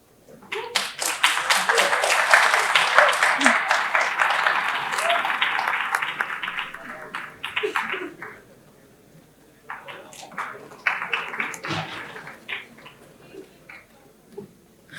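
An audience at a cybersecurity and careers panel event applauds, with several seconds of lively clapping that fades, then scattered claps return in smaller bursts near the end.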